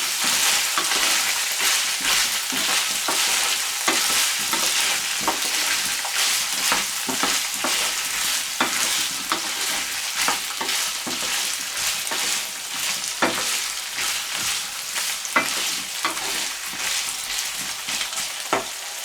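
Constant sizzle and crackle of potatoes frying in a pan, broken by repeated scraping and clattering strokes of stirring, close and fairly loud.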